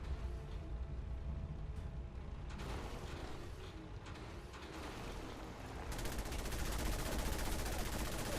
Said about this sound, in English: And then my mines went off.